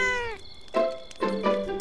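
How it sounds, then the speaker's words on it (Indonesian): A cat meows three times in quick succession, each call a clear harmonic cry, the first drawn out and falling, the next two shorter, close and moderately loud with no talking. "Kucing?"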